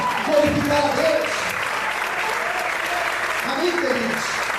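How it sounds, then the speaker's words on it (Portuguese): A church congregation claps in praise during a sermon, continuous crowd applause with voices calling out and the preacher's speech mixed through it. "Será que você pode aplaudir o Senhor?"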